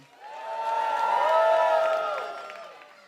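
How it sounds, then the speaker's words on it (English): Audience cheering and applause at a Purim spiel, a short swell of cheers and clapping that rises to a peak midway and then dies down. "let's get a round of applause if you've ever been to a Mishkan Purim before."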